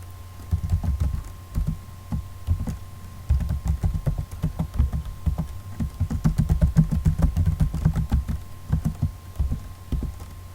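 Keystrokes on a computer keyboard entering a simple QBASIC file-handling program, a steady close run of clicky taps in uneven bursts with short pauses, no voices.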